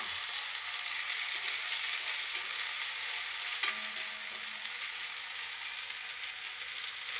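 Sliced onions with salt fry in a pan with green chillies and garlic, a soft steady hiss, moderately close and fairly quiet, with one faint clink partway through.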